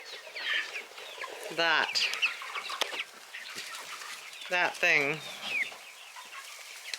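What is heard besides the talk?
chickens clucking outside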